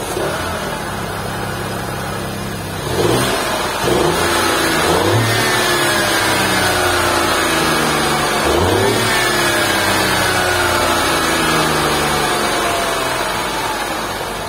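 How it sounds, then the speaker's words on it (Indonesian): A BMW X1 M Sport with a turbocharged three-cylinder engine starts up and then revs several times, each rev rising and falling over a steady engine drone, loud and close with nobody speaking. "Engine startup di bagian sini, foot on the brake."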